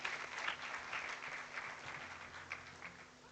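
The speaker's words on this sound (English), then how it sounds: "Please clap for them as they take their seats." An audience at the opening of the Forum on Internet Freedom in Africa claps in a steady, moderately loud wash of many hands. It slowly tapers off toward the end, with no speech over it.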